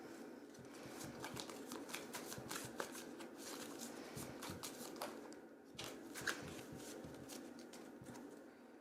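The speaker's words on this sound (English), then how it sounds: "I'm going to pull an oracle card." A deck of oracle cards is shuffled by hand in a quick run of soft riffling flicks and slaps, close and fairly quiet, with no one talking.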